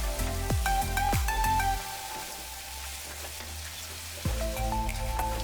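Crab xacuti masala is mixed with salt in a pan over a medium flame, giving a close sizzle with squeaky, scraping stir strokes that come in bursts and fade in between.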